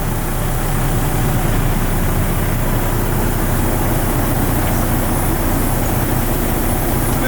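Tractor-trailer truck during a CDL offset backing maneuver, a loud steady low diesel drone with constant broadband rumble and no speech over it.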